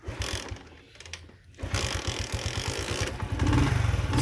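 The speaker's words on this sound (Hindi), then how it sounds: "स्टार्ट हो गया, मैंने सोचा इसको ज़रा रेस दे के इसका इंजन ज़रा सही कर लेते।" A motorcycle engine starting, sputtering briefly, then settling into a steady rapid idle that grows louder as it is revved, heard up close outdoors.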